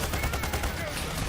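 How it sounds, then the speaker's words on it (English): Shotgun blasts from the video game Payday 3, several rapid booming shots fired in quick succession within gameplay sound, loud and close. "Shotgun."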